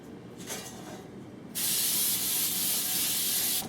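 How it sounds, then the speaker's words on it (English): A steady, close hiss of Pam aerosol cooking spray coating a pan, lasting about two seconds, following a short quieter spurt. "we're just going to spray a pan with some Pam"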